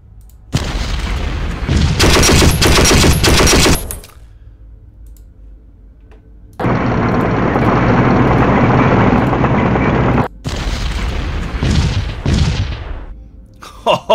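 Artillery fire in the Decisive Campaigns Ardennes Offensive war game comes as loud booming bursts and rumbling barrages in several separate blocks, broken by short near-silent gaps.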